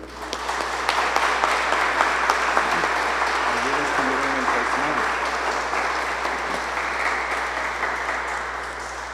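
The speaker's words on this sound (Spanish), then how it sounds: "Les damos un aplauso de bienvenida." A crowd at a church gathering in El Salvador gives welcome applause, sustained dense clapping that holds steady for several seconds before gradually thinning, with faint voices mixed in.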